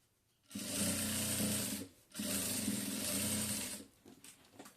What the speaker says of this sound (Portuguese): vai costurar em cima desses retalhos, escondendo todas essas pontas. Com um pezinho de máquina.